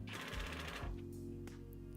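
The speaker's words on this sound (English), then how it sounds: "I'm screwing them straight into the uprights." Screws, 50mm with small brass washers, being driven into wooden uprights of a garden shed, giving a steady whirring drive for about a second that then stops, leaving a lower hum.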